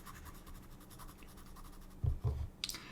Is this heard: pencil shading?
yes